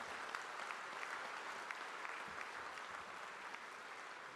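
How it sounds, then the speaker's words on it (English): Steady applause from a large audience at a fintech conference, continuous and even, heard at a moderate distance without a break. "can we once again have a huge round of applause"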